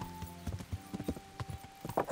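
Horse hooves clip-clop in steady rhythm on a road in the medieval game Kingdom Come: Deliverance, close and clear, with a faint steady tone from the game's ambience underneath.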